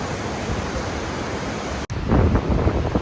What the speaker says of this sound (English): it's as windy as all get up down at this end